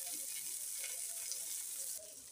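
Onion, tomato and curry leaves fry in a pan with a soft, continuous sizzle and crackle, heard close and fairly quiet, dipping slightly near the end.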